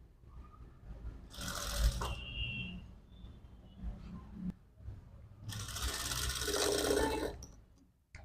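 A sewing machine stitches two or three lined puff-sleeve pieces together. It runs in two short, fairly quiet bursts, with faint handling noises in the pause between them.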